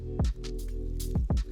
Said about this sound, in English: So we're gonna drop that in the pot.